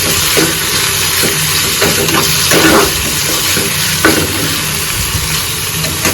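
Onion and tomato frying hard on a high flame, giving a loud, dense, continuous sizzle up close, broken by a few stirring scrapes and soft knocks, with no talking.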